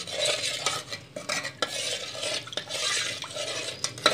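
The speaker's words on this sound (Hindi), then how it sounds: "अब अच्छी तरह से इसको हम मिक्स कर लेते हैं" Jaggery is stirred into a rice and milk mixture in a pot, a utensil scraping and sloshing in repeated close strokes with brief clinks against the metal.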